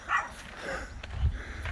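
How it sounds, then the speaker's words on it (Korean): A Pomeranian at a dog hotel barks in a few short, moderately loud yaps over a faint background, with no talk. "지금 나오자마자도 짖고"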